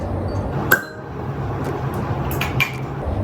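Glasses clink together in a toast at a farewell gathering, one bright chink followed by a couple more lighter taps over a steady murmur of room noise.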